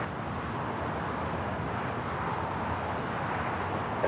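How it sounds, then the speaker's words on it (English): A China Airlines Airbus A350-900 with carbon-fibre livery takes off from runway 25 right at Los Angeles airport, its jet engines giving a steady, loud broadband roar that holds for several seconds, with no talk over it. "China Airlines Flight 5 taking off to Taipei on the A350-900"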